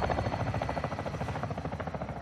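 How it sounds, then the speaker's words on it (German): A military helicopter in Call of Duty: Modern Warfare 2 thumps with rapid, regular rotor beats, loud and close, with no talk over it. "Mal den Heli nochmal losschicken."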